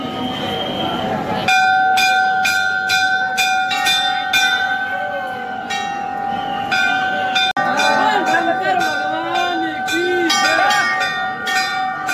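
A temple bell at a Jyotirlinga temple in Ujjain rings repeatedly in a steady rhythm, its bright metallic tones sustained and ringing over a busy, echoing background.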